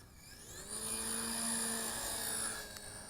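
A small JJRC JX02 beginner's four-channel RC helicopter spins up for an auto takeoff outdoors in a light breeze, its rotor whine rising in pitch and holding steady, faint and thin.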